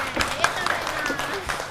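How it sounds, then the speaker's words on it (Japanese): Scattered applause from a handful of people in a carom billiards hall, light and uneven claps mixed with murmuring voices and chatter in the room. "ちょっといる皆さん拍手をしていただいていいですか"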